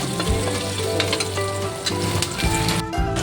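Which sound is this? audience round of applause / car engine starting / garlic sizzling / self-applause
garlic sizzling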